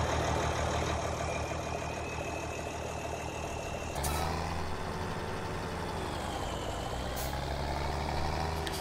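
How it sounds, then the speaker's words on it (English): A Ford TW tractor engine in Farming Simulator 2017 starting up, a loud continuous diesel drone whose pitch shifts sharply about halfway through as it settles into a steady low idle hum, with another brief change near the end. "just go back to this one so you hear the startup sound."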